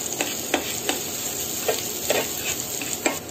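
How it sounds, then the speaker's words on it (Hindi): Onion sautés with cumin in a pan for aloo paratha, a continuous sizzle broken by repeated scraping stir strokes every fraction of a second, close and clear. "अब हम इसको थोड़ा सा ऑनियन को चलाएंगे और इसे लाइट ब्राउन करेंगे"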